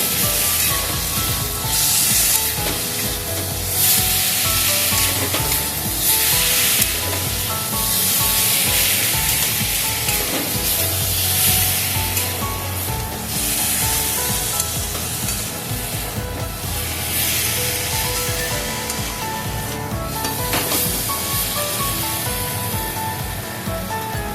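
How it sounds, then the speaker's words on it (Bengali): Potatoes sizzling and being stirred in a pan for a small-fish chorchori, a steady loud fry with repeated scraping and stirring strokes throughout. "আলুটা দিয়ে আমি ভালো করে কষিয়ে নেব।"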